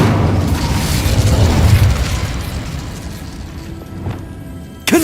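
Incendio fire spell cast in Hogwarts Legacy, a loud booming whoosh of flame that rumbles and gradually fades, ending with a sharp pop.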